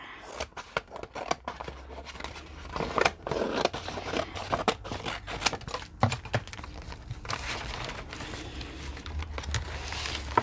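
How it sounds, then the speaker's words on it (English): Scissors snipping paper to make an envelope, a series of close, quiet crisp cuts and clicks in an irregular rhythm with soft handling rustles between them. "I'm gonna cut here."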